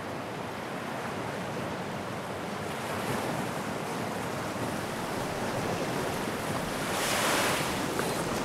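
Waves and wind at a beach make a steady, loud broadband wash, with surf swelling gradually and a stronger surge near the end, no voices.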